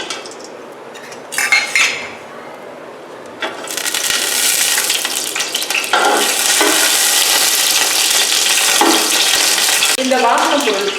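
Whole spices for chicken biryani, including cinnamon, cloves, marathi moggu and cardamom, sizzle loudly in hot oil, with brief metal clinks at first, then a sustained crackling fry as they are stirred.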